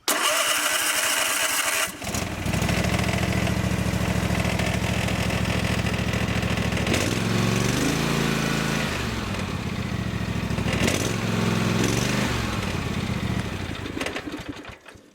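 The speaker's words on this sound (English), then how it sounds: "let's start it up again and see if the voltage does not change" A Cub Cadet lawn tractor engine cranks briefly and fires up, then runs loud and steady close by, its drone rising and falling a couple of times as the throttle changes before it cuts off at the end.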